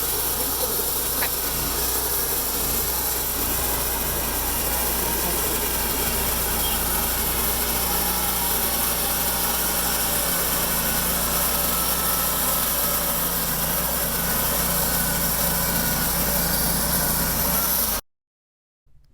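Portable sawmill slicing a magnolia tree into slabs about an inch thick, a loud steady engine roar and blade whine that runs unbroken, then cuts off abruptly near the end.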